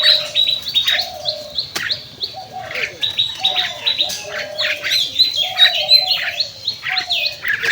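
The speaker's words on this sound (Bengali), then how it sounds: "ওইখানে একটা সুন্দর দোয়েল পাখি ডাকাডাকি করছে অনেক সুন্দর লাগছে" Bright, varied song of an oriental magpie-robin with repeated whistled phrases and chirps, fairly close and continuous, with other birds calling faintly in the background.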